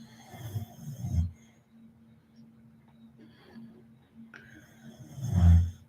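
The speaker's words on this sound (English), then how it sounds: "my dog snores all day, every day" Two loud snoring snorts from a nearby sleeping dog, one near the start and one near the end, with quiet breathing in between.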